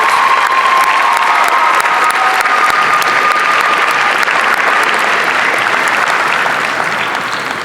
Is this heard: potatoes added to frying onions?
no